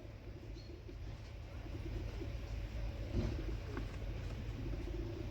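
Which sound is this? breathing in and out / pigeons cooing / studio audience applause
pigeons cooing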